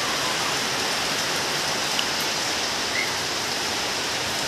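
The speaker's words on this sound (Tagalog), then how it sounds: "Naulan pa rin dito, guys." Steady rain falls outside a house during a dark, wet day, a dense, even hiss of drops that stays loud and constant throughout.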